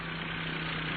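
An ultralight aircraft engine idles at an open-day airfield, a steady, continuous mid-pitched drone with a constant tonal hum and no talk over it.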